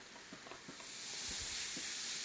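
Carrots dropped into hot ghee in a pan for gajar halwa give a steady soft sizzle with a few small stirring knocks, close and low in level, no voices.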